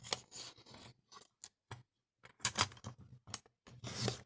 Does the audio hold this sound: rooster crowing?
no